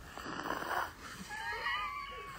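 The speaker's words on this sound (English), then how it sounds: "My baby is snoring like that." A baby snores softly with a raspy, wheezy breath drawn out over a couple of seconds, close and quiet, ending in a brief louder snort.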